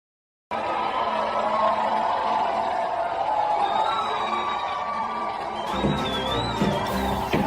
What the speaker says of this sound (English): Looks like a riot.